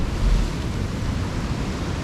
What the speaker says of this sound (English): It's spinning big waves right down here on the coast.